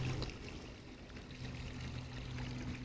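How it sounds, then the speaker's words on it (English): A newly installed backyard water feature runs down a former dry creek bed, a faint, steady trickle and pour heard alone at a distance. "So here's your water feature"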